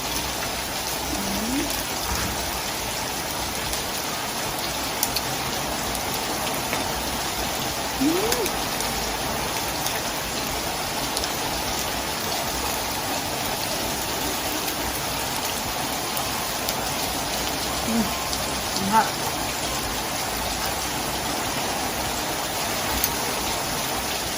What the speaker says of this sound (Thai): ฝนมาตกใส่พอดีจ้ะ